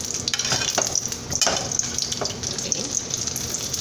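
A blueberry egg omelet frying in a pan gives a steady sizzle with scattered scraping and stirring clicks close by, continuous throughout and with no talking.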